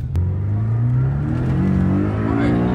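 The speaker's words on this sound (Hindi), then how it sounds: "तो भी एलिस भाई चला रहे हैं हमारी नई पोर्शे।" A new Porsche sports car engine revving as it is driven, a loud rising whine climbing in pitch, close and continuous.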